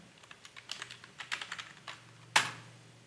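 Quiet computer keyboard typing, a quick run of light key taps in an uneven rhythm, ending with one louder, sharper keystroke like an Enter press, with no voice.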